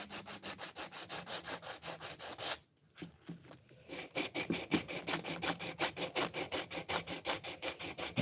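Repeated rhythmic rasping strokes of a file or rasp shaping a chamfer on a wooden knife handle, close and steady, with a brief pause in the middle before the strokes resume.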